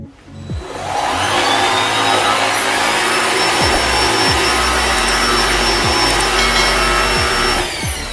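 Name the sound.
vacuum cleaner running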